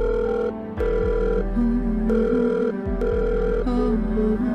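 A phone rings loudly and close with an incoming call, its tone repeating in a steady electronic pattern that briefly drops out and resumes.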